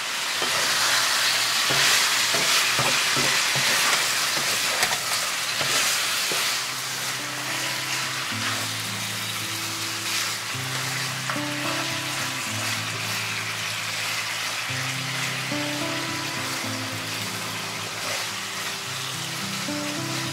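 Chicken with ginger stir-fried in a pan, a strong continuous sizzle with occasional utensil scrapes. Soft background music rises under it partway through, with no one speaking.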